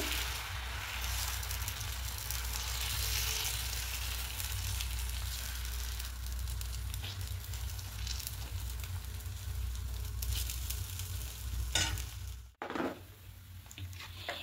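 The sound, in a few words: batter spread in hot pan for patishapta pitha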